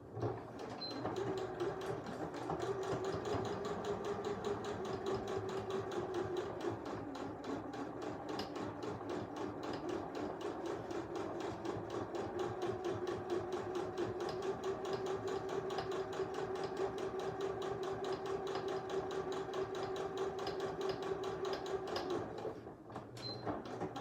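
A sewing machine stitches a quarter-inch face mask seam, running steadily and close for over twenty seconds with a fast, even needle rhythm and motor hum, stopping briefly near the end.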